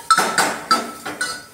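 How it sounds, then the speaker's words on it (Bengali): A spoon scrapes and knocks against a pressure cooker while stirring masoor dal with carrot, five or six distinct metallic clinks in an uneven rhythm, close and clear. "কুকারে দেওয়ার পর আবারও একবার আমি নাড়াচাড়া করব।"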